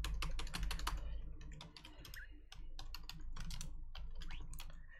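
Rapid clacking keystrokes on a computer keyboard come in quick bursts with brief pauses, close and clear with no voice over them.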